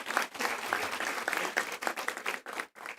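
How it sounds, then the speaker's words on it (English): Audience applause at a university graduation ceremony, a dense, steady wash of many hands clapping that fills the whole stretch, with a few brief dips near the end. "See, they're clapping."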